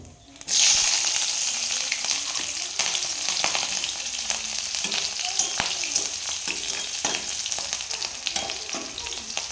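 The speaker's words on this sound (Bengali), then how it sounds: "এবার ফোড়নে দিয়ে দেবো কালো জিরা আর কাঁচা লঙ্কা যে চিড়ে রেখেছি সেগুলো দিয়ে দেবো" Nigella seeds and slit green chillies dropped into hot oil burst into a loud, close sizzle that keeps crackling steadily with occasional stirring scrapes.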